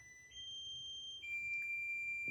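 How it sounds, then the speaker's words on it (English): A kitchen timer alarm beeps in steady high tones, quiet and fairly distant, over low room noise while okra and onions cook. "Glad I put my timer on."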